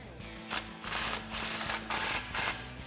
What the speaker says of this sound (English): now we can go back and tighten down that clamp